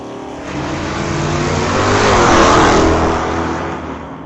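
Drag race launch between a 1964 Ford Falcon and a Dodge Dart, engines roaring loud and steady, swelling to a peak midway then easing slightly as the cars pull away down the strip.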